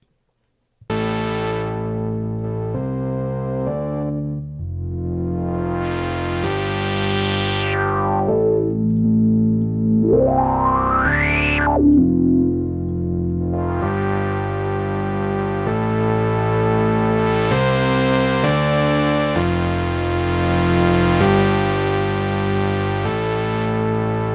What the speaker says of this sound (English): drive, which adds a little bit of distortion into the filter stage